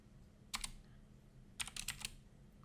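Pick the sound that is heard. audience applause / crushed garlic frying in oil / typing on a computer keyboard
typing on a computer keyboard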